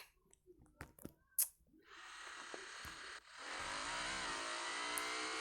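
Motorcycle engine in the mobile game Traffic Rider, a few clicks and taps, then a steady engine drone that rises in pitch with a gear change midway, moderately loud with no speech.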